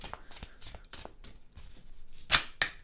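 Tarot cards are shuffled up close in a quick run of crisp riffling flicks and soft slaps, ending in two sharper snaps of the deck.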